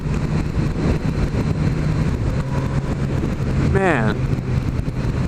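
A 2016 Suzuki GSX-S 1000 motorcycle engine pulling at about 3,500 rpm in fourth gear, a steady low drone under wind noise, with a brief rising whine and someone speaking over it.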